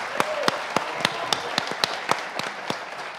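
A studio audience applauds to welcome guests on a UNAM television show. The clapping is steady, with distinct regular beats over a continuous wash of hands, and no talk over it.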